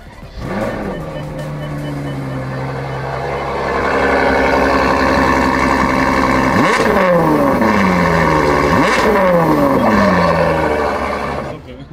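A crashed Porsche GT3 engine cranks and fires up loud and close, idling roughly before two sharp rising revs that sweep up and fall back.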